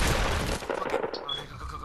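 Gunfire in the video game Fortnite, a burst of sharp shots up front that fades into a quieter tail, close and loud.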